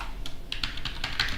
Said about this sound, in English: If I type free,